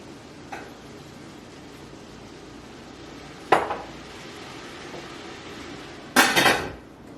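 A metal lid set onto a cooking pot of Southern-style kale sauté with bacon, heard as a few sharp clanks and rattles, one midway and a louder cluster near the end, over quiet kitchen background.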